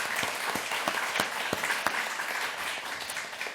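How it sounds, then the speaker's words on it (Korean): A church congregation claps in thanksgiving during a Sunday service, a steady round of applause with a few sharp, distinct claps standing out near the front and the rest blending into a continuous patter. "우리 감사함으로 박수로 영광 드리도록 하겠습니다"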